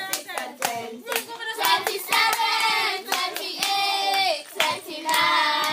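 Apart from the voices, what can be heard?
school children clapping hands in a playground clapping game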